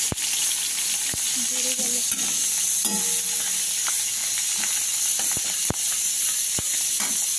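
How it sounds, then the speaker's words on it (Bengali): Chopped garlic dropped into hot oil for tarka dal, a loud, steady hissing sizzle with occasional sharp clicks and light utensil taps close by throughout. "এবার আমি প্রথম রসুন কুচিটা দিয়ে দিলাম।"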